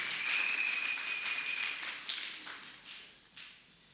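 Congregation at a church sermon breaking into applause, a dense burst of clapping that fades over a few seconds, with a sustained whistle-like tone over the start.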